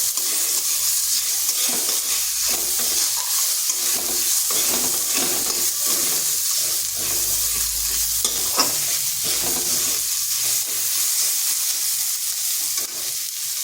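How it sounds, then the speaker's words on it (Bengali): Green chillies with chopped garlic sizzle and fry steadily in a pan for a savoury snack, a continuous loud crackle with stirring scrapes throughout and no talking. "আর এগুলো একটু ভেজে নিচ্ছি যাতে এর কাঁচা গন্ধটা চলে যায়"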